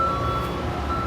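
A vehicle's reversing beeper sounds a steady high electronic tone at Starbase, heard close over a low engine rumble.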